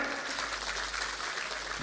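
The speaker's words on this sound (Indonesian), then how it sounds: "Tepuk tangan." An audience at a boarding school's tenth-anniversary gathering gives a faint, distant wash of continuous clapping for a couple of seconds.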